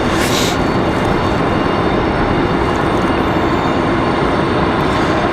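Mesa Airlines Embraer E175 jet at Raleigh Durham airport, a loud constant broadband engine roar with wind-like rush, steady throughout and heard close.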